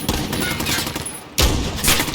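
Rapid bursts of automatic gunfire in Call of Duty, loud and dense, with a brief lull before another heavy volley near the end.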